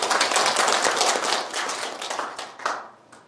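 Audience members at a Rotary district leadership training session give a round of applause, brisk close clapping that thins out and dies away in scattered final claps.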